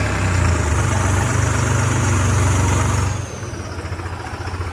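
A tractor engine runs under heavy load while pulling a bulldozer stuck in mud, a steady loud low rumble with pulsing firing that drops to a lighter idle near the end; no talking.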